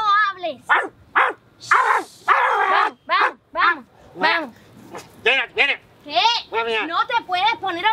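A person imitates a dog barking in a string of loud, close, yappy barks and whimpers, with short gaps between them.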